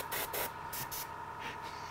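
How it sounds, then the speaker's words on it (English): An airbrush sprays paint in short hissing bursts, five or six spurts of varying length separated by brief pauses, quiet and close with no voices. "You're almost convincing me to whip out my airbrush, Aaron."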